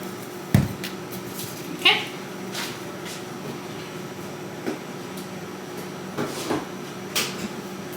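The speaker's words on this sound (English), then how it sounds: "The way these two just take turns meowing at me for no reason." Two pet cats take turns meowing indoors, giving short, fairly faint meows spaced out at intervals over a quiet room background.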